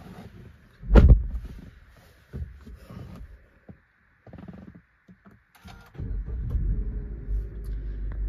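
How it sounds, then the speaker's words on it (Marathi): A Suzuki car's engine idles while warming up, a low, uneven rumble broken by a sharp thump early on, then settling into a steadier, louder drone toward the end. "पाच 10 मिनिटं गाडी चालू ठेवावी लागते,"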